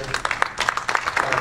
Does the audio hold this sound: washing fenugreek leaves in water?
no